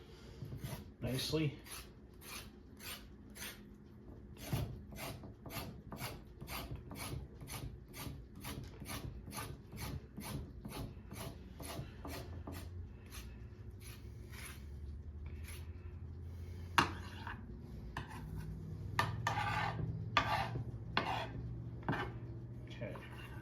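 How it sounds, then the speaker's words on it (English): A knife back scraping the outer layer off raw venison in a rapid series of short, rasping strokes, close and steady throughout, with one word spoken briefly. "The back of the knife just peels off the outer layer"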